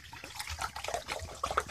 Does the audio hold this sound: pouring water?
yes